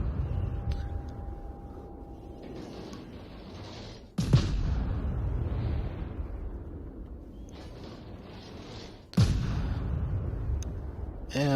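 Warship guns in a naval video game fire at aircraft hangars, two heavy sharp booms standing out over a constant rumbling battle din, with someone talking throughout.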